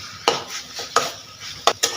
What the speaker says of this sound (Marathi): त्याला चांगलं मिक्स करून घ्यायचं आहे मसाल्यासोबत.